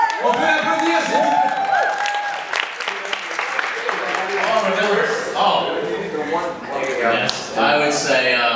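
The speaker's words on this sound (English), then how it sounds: "On peut applaudir, s'il vous plaît." Audience applause breaks out at a science-fiction fan convention, a full crowd clapping steadily with a few cheers rising through it, while voices talk over the applause.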